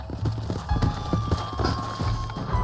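Horses clip-clop along in Red Dead Redemption, the hooves of several mounts thudding in steady, close, moderately loud rhythm for a few seconds without speech.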